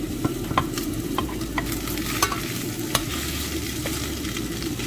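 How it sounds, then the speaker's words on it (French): Garlic, mushrooms and surimi sauté in sunflower oil in a pan: a steady low sizzle under scattered spatula scrapes and taps, close by, with no talking. "puis je fais revenir de l'ail. Ensuite, j'ajoute les champignons, les surimi."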